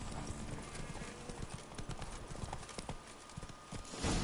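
Horse hooves clip-clopping in The Witcher 3, a rapid patter of muffled thuds under dense game ambience and background noise, with a burst of louder sound at the very end.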